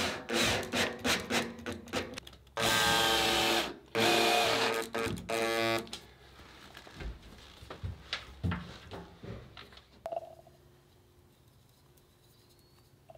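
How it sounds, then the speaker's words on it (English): A power driver sends screws through small tabs to fix an aluminum tank in place inside a camper van, giving several loud whirring bursts with grinding and scraping between them, then quieter taps and handling noise. "I had a couple small tabs I could screw through to hold the tank in place."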